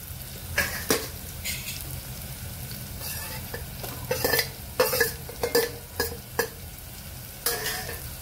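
Ginger-garlic paste sautéing with browned onions in a pan for egg biryani, with steady sizzling frying and repeated scraping stir strokes of a spoon against the pan, close and moderately loud.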